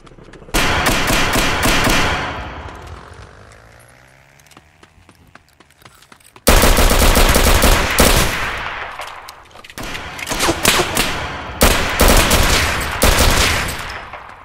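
Video game gunfire in a player-versus-player match, loud rapid bursts of shots in dense volleys separated by brief pauses, close and dominant with no talk.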